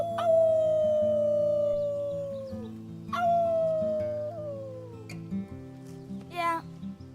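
Voices imitate wolves in the Life is Strange 2 video game, with three long sliding howls that fall in pitch, the last one short and rising, heard over steady, droning game music.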